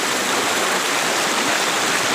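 Riverside water rushing in a steady, dense wash of flowing sound, loud and close, with no voices over it.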